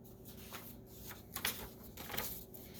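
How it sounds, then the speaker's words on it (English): Playing cards are shuffled close by in a quiet room, several soft riffling bursts with brief pauses between them, faint over a light background hiss. "We are using cards."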